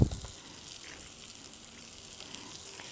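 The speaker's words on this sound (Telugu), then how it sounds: "ఇదే దీన్ని పాన్ ఫ్రైయింగ్ అంటారు చికెన్ని" Chicken breast pan frying in butter sauce with crushed garlic, a steady soft sizzle and hiss running throughout, with a brief louder clatter at the very start and no talk.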